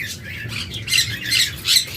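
A pair of pet parakeets offered for sale squawks up close in three loud, harsh bursts over a low background hum.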